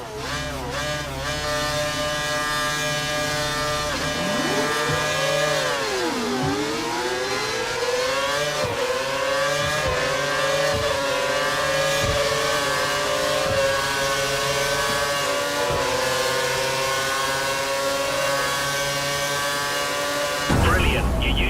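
A Formula 1 car engine in the racing game F1 2013 screams through rising and falling gear shifts for about twenty seconds, loud and continuous, ending with a sudden burst of noise.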